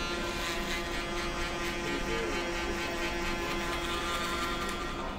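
Electric shaver buzzing continuously while a barber balds out the back of a client's head, a steady close motorized hum with a faint tonal whine, holding even level throughout.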